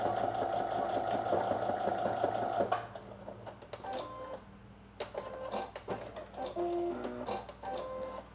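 A sewing machine stitches the seam of a Simplicity 9888 button-placket dress bodice, whirring steadily, then it stops and resumes in short bursts for the back stitch, fairly quiet at close range.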